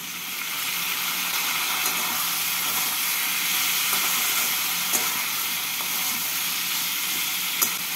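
Turmeric and chilli powder with salt stirred into a little water in a hot pan, a steady close hiss and sizzle with a few faint utensil ticks, no voices.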